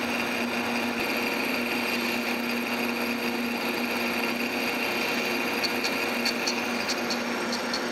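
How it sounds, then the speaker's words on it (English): A tool post grinder spins steadily against the jaws of a three-jaw lathe chuck, a constant high whine with faint repeated ticks toward the end as the wheel touches some of the jaws. "you can hear it's touching on two of the jaws"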